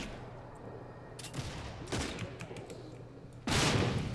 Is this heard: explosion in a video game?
yes